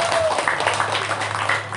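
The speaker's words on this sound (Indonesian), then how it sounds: "Tepuk tangan Bapak Ibu." An audience at a solo song competition applauds with a dense, steady wash of clapping, close and fairly loud, with faint voices mixed in.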